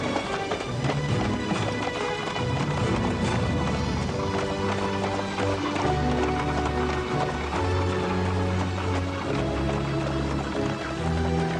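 Horses gallop in a fast, continuous rhythm of hooves clip-clopping, loud and close throughout, with rumbling movement and no talking.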